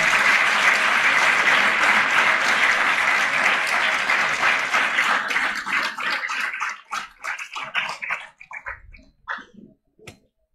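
An audience at a convocation lecture in Jaipur breaks into loud, sustained applause that thins out into scattered, fading individual claps before dying away.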